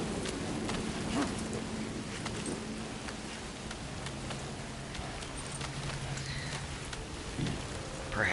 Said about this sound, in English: Yo, this rain is not doing me any good at all.